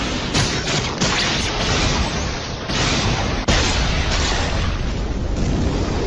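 Sasuke's Inferno Style attack exploding in Naruto anime, a continuous roaring blast of fiery rumble with a couple of sudden bursts that cut in and restart, no talking.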